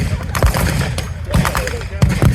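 Bursts of gunfire and booming artillery explosions at a TankFest battle display, in rapid, irregular succession, loud and close, with a chaotic battle din in between.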